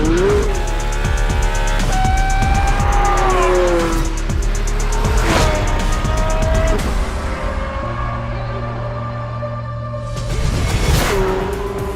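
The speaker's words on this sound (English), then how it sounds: "These are real F1 cars for the road." F1-derived road hypercars, including the Mercedes-AMG One, rev hard and accelerate, their high whining engines climbing through gears with tire squeal, loud and close, fading briefly before another surge.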